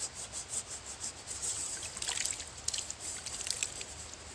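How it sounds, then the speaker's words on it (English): A camp pan being scrubbed by hand with gritty sand outdoors in the woods, giving a quiet, rhythmic rasping rub that keeps going in short strokes and grows slightly stronger midway, with no speech. "you just use the grit in your hand to scrub everything off"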